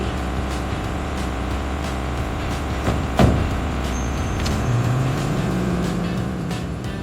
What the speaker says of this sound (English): this garbage truck runs on electricity. It collects trash quietly without producing smoky exhaust